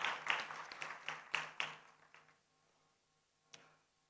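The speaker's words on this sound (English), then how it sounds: "If everyone can give a round of applause to Bapak Ilham Habibi as our second speaker today" Summit audience applauding their second speaker, a burst of scattered claps that thins out and fades within a couple of seconds, with one lone clap after a pause, fairly faint and distant.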